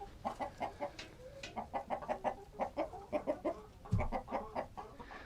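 Chickens clucking and murmuring in a shaded coop on a hot day, a steady run of short close calls with one brief louder bump near the end, no talk.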